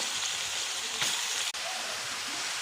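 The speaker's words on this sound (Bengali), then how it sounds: "এখন লাউ ভাজি করে দিলাম।" Sliced bottle gourd (lau) sizzles and crackles steadily in hot oil in a home kitchen, a dense broadband hiss with one brief louder spatter and no talking.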